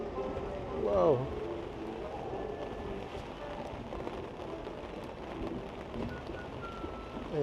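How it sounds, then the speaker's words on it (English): Steady rain falls during a Disneyland train ride, a dense continuous hiss of drops on surfaces, with a brief voice-like swell early on and low rumbling movement beneath. "You could really hear the rain."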